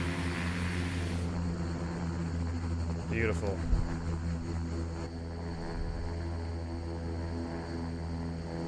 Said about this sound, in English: Drop that left engine in the beta.